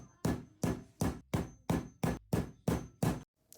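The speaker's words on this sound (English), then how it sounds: "All these pieces have a lot of rivets to be set, so it's smacking time." Rivets are set in leather pieces for raven armor with a hammer: nine loud, evenly spaced smacking blows in a steady rhythm, close up and without talk.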